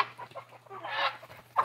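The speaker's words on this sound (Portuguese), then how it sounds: "Olha lá os gansos, vamos ver se eles vêm aqui comigo." Geese and guinea fowl call outdoors on a farm, with overlapping clucking and honking cries at moderate distance over a steady low hum.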